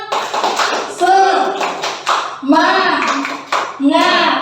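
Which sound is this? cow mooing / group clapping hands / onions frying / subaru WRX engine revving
group clapping hands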